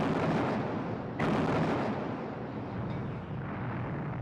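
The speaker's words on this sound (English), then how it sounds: "So the British opened fire on their former allies." Royal Navy warships fire artillery on the French fleet, heavy booming blasts rolling into a dense, sustained rumble with a sharp report about a second in, loud and without talk.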